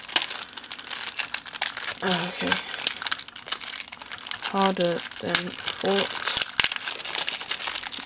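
Crinkly plastic packaging around camera gear, including a UV filter, lens cap and EN-EL14 battery, crackles and rustles steadily up close while being pulled open, with a person speaking briefly over it.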